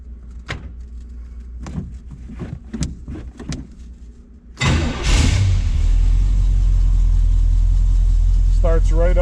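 A 1967 Chevrolet Camaro convertible restomod with an automatic transmission cranks and fires up close by, then settles into a loud, steady rumble. Someone speaks briefly before the start and again near the end.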